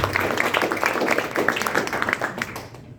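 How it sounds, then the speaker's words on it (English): A town hall audience applauds in honour of mothers: a dense, steady burst of many hands clapping that fades out toward the end. "So let's give all our moms a round of applause"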